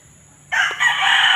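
A rooster crows loudly and close by, one strained cock-a-doodle-doo that bursts in suddenly after a quiet moment.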